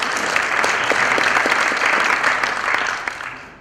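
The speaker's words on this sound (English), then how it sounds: "so give an applause" A conference audience gives steady, full applause at a session of talks, sustained and even throughout before tapering slightly at the end.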